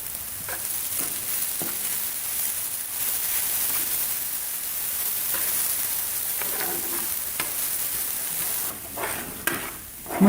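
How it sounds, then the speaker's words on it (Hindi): Masala with red chili and salt sizzles and fries in a pan while being stirred, a continuous loud hiss broken by scraping strokes of the spoon and a few clatters near the end. "मसाले को अच्छी तरह हिलाकर आग जो है, आंच जो है ना बिल्कुल हल्की कर देनी है"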